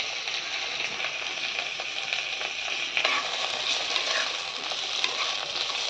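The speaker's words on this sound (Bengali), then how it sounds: "একটু আমি ভেজে নেব।" Onion, tomato, garlic, ginger, cashews and split green chilli fry in a pan for a Bengali egg curry, giving a steady close sizzle with soft crackles and the occasional scrape of stirring.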